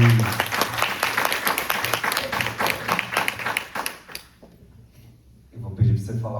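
An audience at a voice and speaking talk applauds a presenter with loud, dense clapping that stops abruptly, then leaves a brief quiet pause before a voice and another noise come in.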